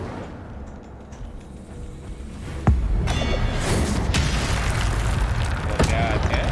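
A fire spell cast in Hogwarts Legacy, a sudden deep boom followed by sustained roaring, crackling magical combat noise with further bursts, heard with game effects throughout.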